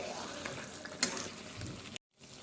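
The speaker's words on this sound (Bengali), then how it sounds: "এখন মাংস দিয়ে ভালো করে কষে নেব।" Chicken meat sautéing in a pan gives a soft, moist sizzle with a brief scrape near the middle, close and fairly quiet, before a sudden cut to near silence.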